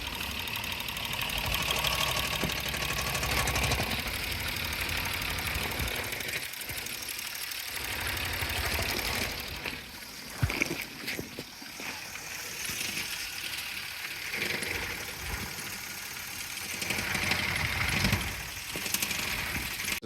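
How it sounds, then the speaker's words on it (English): A Toyota Yaris engine idles roughly, running unevenly as if close to stalling while the whole engine shakes violently. A steady, continuous mechanical drone with irregular dips and surges is heard close up, with no talking. "we're idling like super rough"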